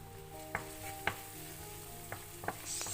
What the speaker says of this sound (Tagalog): saute lang natin